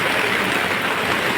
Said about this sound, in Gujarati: વરસાદ પડે મોટે ફોડે પડે.